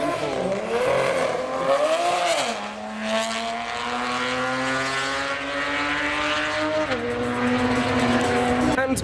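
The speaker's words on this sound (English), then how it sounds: "There goes the M4." A single-turbo BMW M4 races down the Santa Pod drag strip, its loud engine rising through gear changes with pitch climbing and dropping at each shift, close and dominant with crowd noise faintly behind.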